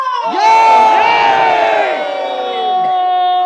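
A large crowd at a Night Safari show in Singapore roars with loud cheering, whoops and shouted cries that swell and then settle into sustained noisy applause-like cheering.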